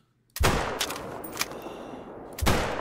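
A rifle shot in a hunting video game fires after a moment of silence, a loud sharp crack whose echo rolls on, followed by a second loud report near the end.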